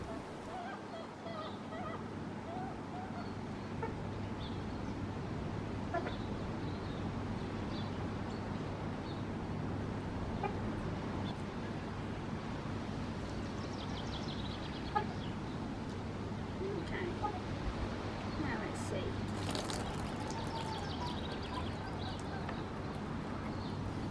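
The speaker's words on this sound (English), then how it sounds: "The chicken you can hear squawking in the background" A chicken squawks and clucks intermittently in the distance over a steady low background hum, with a louder flurry of squawking late on.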